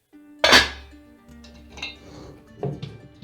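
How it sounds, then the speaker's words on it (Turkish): Boiled chickpeas tipped from a pot into a colander to drain, cooked over a wood fire, give a sharp metallic clatter followed by softer rattles and a final clink, close and quiet. "Kevginin üzerine dökerek nohutları süzelim."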